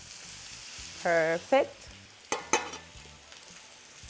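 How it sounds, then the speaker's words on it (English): Chicken pieces searing in a frying pan for colour, a soft steady sizzle running under the whole stretch with a few louder bursts as pieces are moved; a voice says a single brief word. "Now, while this is pan searing, we're gonna make our honey garlic sauce."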